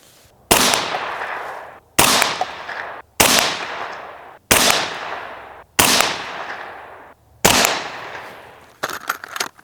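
Six loud 5.56 rifle shots firing AAC 77 grain ammunition outdoors, each a sharp crack with a long echoing tail, spaced roughly a second and a half apart, ending in a softer rattle of clatter.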